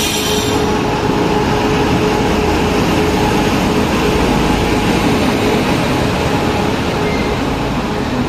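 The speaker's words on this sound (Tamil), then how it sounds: "எனிவேஸ் நம்ம ட்ரெயின் வந்துருச்சா நம்ம கிளம்புவோம்." An Indian Railways Duranto Express pulls up at a station platform, a loud continuous rumble of rolling wagons and wheel noise filling the whole stretch with steady, close mechanical roar and faint squeal.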